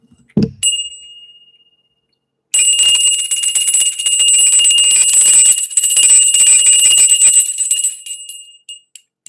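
A single bell rings out loud and bright, a sustained metallic ringing with a shimmering tone that carries on for several seconds before cutting off, preceded by a brief soft knock.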